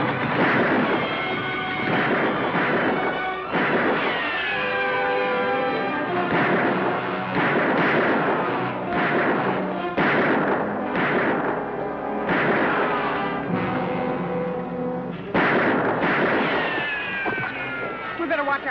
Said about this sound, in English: We better watch our shots, Lofty.